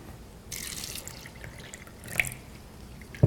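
Kangen alkaline water is poured into a cup holding a tea bag, a short splashing trickle followed by a few light drips, close and fairly quiet.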